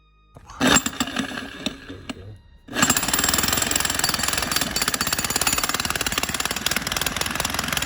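A jackhammer pounds loud and close in rapid continuous bursts after a brief start-up stutter, hammering steadily to the end as it bores a hole into backyard ground for a drain installation.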